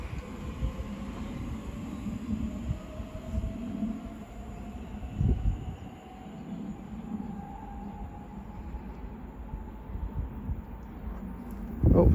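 Train 345032 departs West Ealing on the Great Western Main Line, a steady rumbling roll of wheels on track with a rising electric whine, close and moderately loud.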